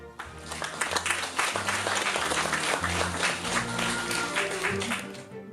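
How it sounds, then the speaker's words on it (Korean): Sustained applause from a crowd at a memorial ceremony for victims of the No Gun Ri massacre fills the whole stretch, dense clapping rising quickly and holding steady at moderate volume. "박수로 환영해 주시기 바랍니다"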